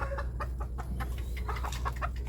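A wild labuyo junglefowl, a pure red junglefowl kept in a small cage, gives soft repeated clucks over a steady low background hum, faint and close, with no voices.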